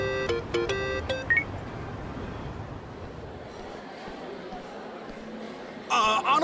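A smartphone call tone in the video game Yakuza: Like a Dragon sounds as a quick run of electronic beeps, then fades under quiet in-game ambience before another bright burst of beeps at the end.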